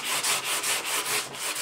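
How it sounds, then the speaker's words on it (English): Coated rough-sawn lumber on a wooden crate bookshelf top being hand-sanded between coats, a loud, close, steady scratchy rasp in rhythmic back-and-forth strokes about five times a second, with no talking. "I'm going to give it another sanding."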